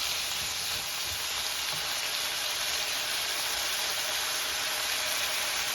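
Tomatoes and bitter gourd sauté in a hot pan, a dense, steady sizzle that fills the whole stretch with no break, loud and close, with no voices.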